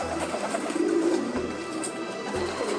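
Pigeons or doves kept for sale coo repeatedly, soft low throaty calls in a steady rhythm from close by, with faint background chatter and no clear speech.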